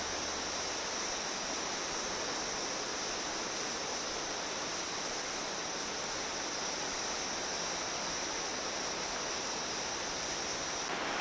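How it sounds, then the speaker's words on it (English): An underground river roars inside Clearwater Cave in the Mulu rainforest, a constant, full rushing wash of water echoing without a break or any voices. "As we are going down, one can hear the roaring of the river"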